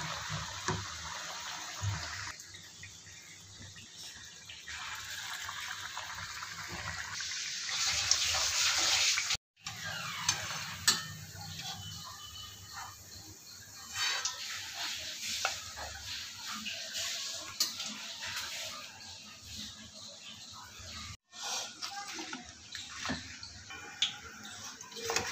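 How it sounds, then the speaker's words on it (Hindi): Potato pakoras coated in gram flour batter frying in hot oil, a steady broadband sizzle and bubbling that runs close and fairly loud throughout, with brief flare-ups and a couple of short dropouts. "और तेल हो गया है हमारा गर्म, अब इसके अंदर डालेंगे।"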